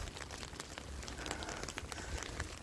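Steady rain patters on a hard surface in Vilnius, a dense crackling hiss with scattered louder drops throughout, no voices.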